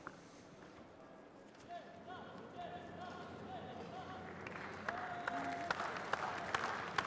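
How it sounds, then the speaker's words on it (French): An audience applauds a cooking team at the International Catering Cup 2015 competition. Claps swell in the second half over a busy hall of crowd voices and chatter. "Il va falloir les applaudir, hein, il faut les soutenir parce que ils sont excellents."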